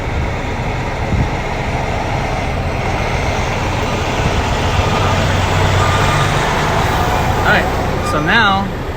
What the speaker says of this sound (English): there goes the Ryder truck